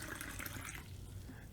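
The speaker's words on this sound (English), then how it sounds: "Go ahead and do it over your sink and pour the water into the glass" Water poured into a glass over a kitchen sink, a steady close rushing and splashing stream that softens slightly toward the end, with no talking.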